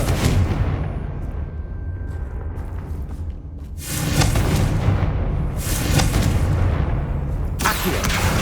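Confringo blasting spell explosions in the video game Hogwarts Legacy, loud booming blasts with rumbling noise bursts, a fiery roar at the start and two more booms later, with no speech.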